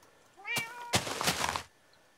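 A single drawn-out cat meow, rising and then falling, followed by a harsher noisy burst, close and fairly loud, with quiet before and after.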